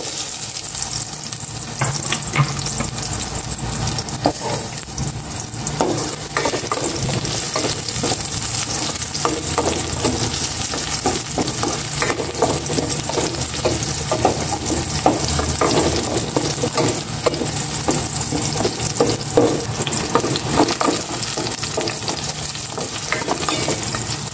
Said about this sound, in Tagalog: Igisa ko na rin itong pork.